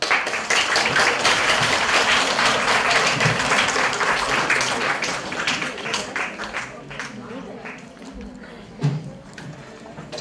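An audience applauds student debaters at the elementary-division final of a youth unification debate contest: many hands clap loudly at first, then the applause thins and fades toward a few scattered claps.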